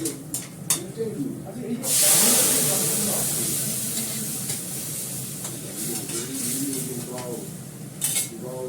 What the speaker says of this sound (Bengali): আমি আজকে ডালটা রসুন ফোড়ন দিয়ে করছি। ডালটা দিয়ে দেবো।